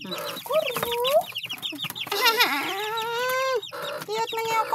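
Chickens cluck and squawk up close, with a few drawn-out rising calls and a brief crow-like cry among the clucking.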